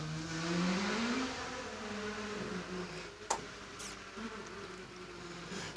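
A small Ford Escort race car carries a passenger up a hillclimb course, its engine a distant, buzzing whine that rises in pitch, then fades under faint outdoor background noise.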